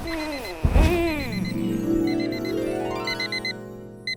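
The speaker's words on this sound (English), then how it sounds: "It starts like every morning. Buzzing alarm." An electronic alarm clock beeps in short repeated bursts, mixed with a sweeping synthetic tone, fairly close and clear.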